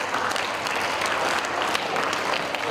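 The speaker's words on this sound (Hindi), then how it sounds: "इसके लिए भी एक बार लौटा ताली बजाओ।" Audience applause at a yoga gathering at Acharya Kulam in Haridwar, a dense, loud crowd of hands clapping steadily and continuously, without a break, with no voices over it.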